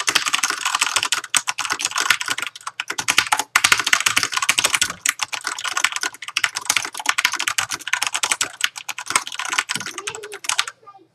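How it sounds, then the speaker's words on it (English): Rapid typing on a Philco mechanical keyboard fitted with PBT keycaps, a dense, steady run of close clicky keystrokes with brief pauses, heard alone. "that just gives you a bit of an idea about how it sounds compared to a Philco with PBT keycaps"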